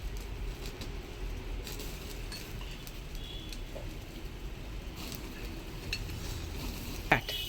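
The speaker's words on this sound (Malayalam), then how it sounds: "ഞാൻ ഇതിലോട്ട് കുറച്ച് ഓയിൽ സ്പ്രെഡ് ചെയ്ത് കൊടുക്കുന്നുണ്ട്." Oil is spread over BBQ chicken on a hot grill, a steady low sizzle with faint scraping and light clatter, close by, and one sharper tap near the end.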